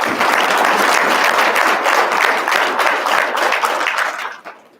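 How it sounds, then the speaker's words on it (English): A hall audience at a university's State of the University address applauds the Board of Regents: dense, steady clapping from many hands holds loud throughout, then thins and fades out in the final half second. "Can we all give them a round of applause?"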